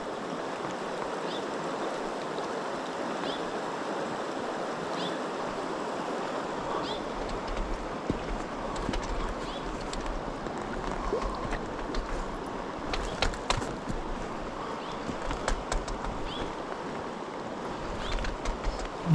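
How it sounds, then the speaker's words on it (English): Steady rushing water of a wild stream in Patagonia, Chile, with intermittent scraping, clattering knocks of a wading stick dragged over rocks, growing more frequent toward the end. "I'm dragging my wading stick if you wonder what that noise is."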